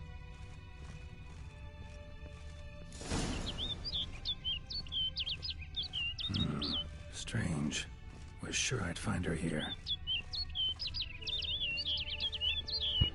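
Small birds chirp in quick, repeated bright calls over quiet ambience in The Witcher 3: Blood and Wine, and a voice talks briefly in the middle.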